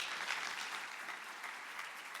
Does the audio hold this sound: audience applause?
yes